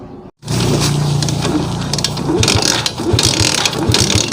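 A motorcycle with a battery-operated CDI is kick-started with the ignition switched on, a loud mechanical ratcheting and clanking of the kick lever and gears, repeated strokes without the engine catching.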